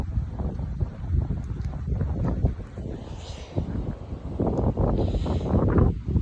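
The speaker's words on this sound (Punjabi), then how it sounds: "ਅੱਜ ਵਧੀਆ ਹਵਾ ਚੱਲ ਰਹੀ ਹੈ" Wind gusts across an open farm field, a steady low rumble buffeting the microphone that swells louder toward the end, with no voices.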